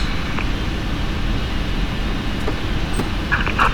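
A PMDG 747-8F jet engine spooling up during start in a flight simulator, a loud, steady broadband roar and rush of air with a few faint clicks near the end.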